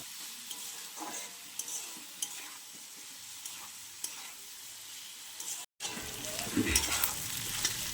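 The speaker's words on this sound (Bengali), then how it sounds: "চুলার আঁচটা কমিয়ে রেখে আমি সবজিগুলো কষিয়ে নিচ্ছি" Vegetables for noodles are sautéed over low heat in a pan, a soft steady sizzle with occasional stirring taps, then a short gap and a louder sizzle.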